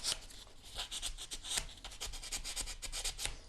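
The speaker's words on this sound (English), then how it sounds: "I'm just going to scrape over the top of it with the relief block." A relief block scrapes rapidly back and forth across a brass dragonfly necklace piece, a close, soft, gritty rubbing in quick continuous strokes with steady rhythm.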